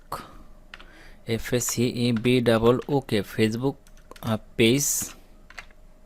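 Someone types the word 'Facebook' into a search box on a computer keyboard, a short run of soft key clicks partly buried under a person talking.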